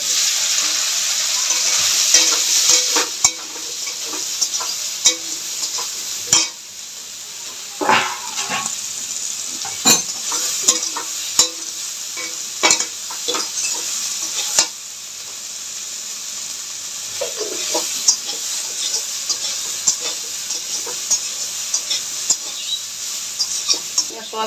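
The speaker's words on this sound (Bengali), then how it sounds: "তেলটার মধ্যে সোয়াবিনটা ভেজে নেব।" Soybean chunks fry in hot oil with a steady hiss and sizzle, broken throughout by sharp scraping and clattering as the pieces are stirred in the pan.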